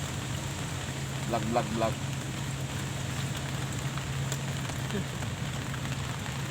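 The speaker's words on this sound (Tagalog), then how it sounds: "malakas yung ulan dito" Steady rain hisses continuously in a dense, even wash, with faint voices briefly audible beneath it.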